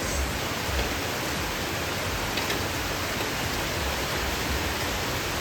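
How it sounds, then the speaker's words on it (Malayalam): Heavy rain pours down in a dense, constant hiss, unbroken and loud throughout with no other sounds standing out. "നല്ല മഴയാണ്"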